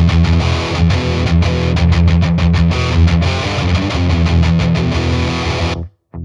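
An electric guitar played through a Boss Katana amp on a heavy metal setting chugs out loud, distorted, palm-muted riffs with rhythmic stops, ending abruptly in a short silence before a final hit.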